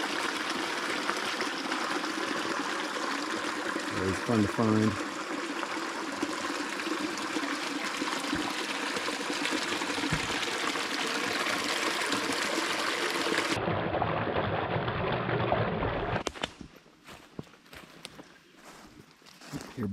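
Water flowing steadily down a woodland creek over small mini waterfalls, a close and continuous rush. A person speaks briefly over it, and the sound shifts and thins toward the end.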